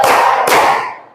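Two sharp, loud hand claps a fraction of a second apart, close and bright, from a classroom clapping game with no speech over them.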